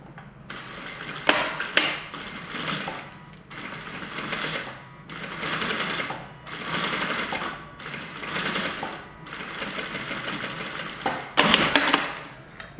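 A sewing machine top stitches a tool roll in several close, rapid runs of needle chatter, broken by short pauses, with no talking.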